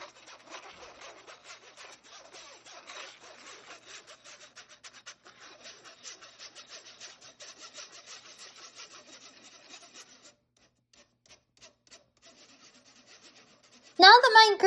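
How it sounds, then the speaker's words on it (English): Dry ingredients for a banana cake are sifted through a sifter, a quiet, rapid scratchy rasping that keeps up for about ten seconds and then trails off to faint rubs, ending with a short, louder clatter. "When you're sifting, you can push the ingredients through using a rubber spatula or a spoon, or you can tap the sides of it with your hands."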